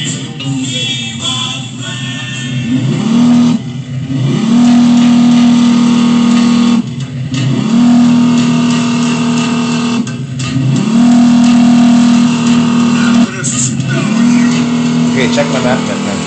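A car engine revs up and settles repeatedly as the driver presses the gas, a steady loud drone rising in bursts every few seconds, with people talking over it.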